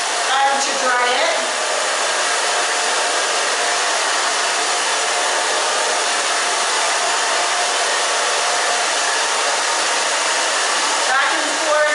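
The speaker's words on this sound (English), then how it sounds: "In the back, I'm just going to dry that down." A hair dryer blows steadily and loudly, drying a short pixie cut, with a continuous whooshing roar that holds level throughout and only faint shifts as the airflow moves.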